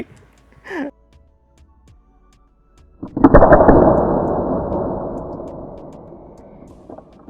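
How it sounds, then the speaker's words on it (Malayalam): A Dan Wesson revolver air gun fires once at close range, a loud sharp report that rings out and decays slowly over several seconds, preceded by a faint brief sound. "ഇതാണ് ഇതിൻ്റെ ഫയറിംഗ് സൗണ്ട് ടപ്പ് ടപ്പ് ടപ്പ് എന്ന് കേൾക്കും"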